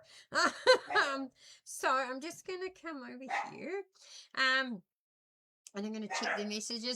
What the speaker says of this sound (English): you will hear the dogs barking because their pa just came home and they get a little bit excited.